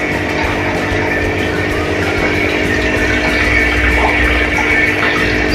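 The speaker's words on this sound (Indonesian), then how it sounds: "Kita tunggu aja sampai airnya full." Water pours steadily into a fish tank for Channa snakeheads, giving a continuous loud rushing and gurgling that runs unbroken, with a low pump-like hum underneath and no speech.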